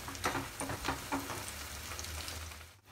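Fritters sputter and crackle as they fry in oil over a medium gas flame, a steady close sizzle with scattered popping bursts and no talking.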